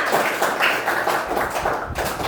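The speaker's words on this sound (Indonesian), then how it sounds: "Tepuk tangan dulu buat semuanya." A classroom of children claps together in a dense, lively burst of applause lasting a couple of seconds, close and fairly loud.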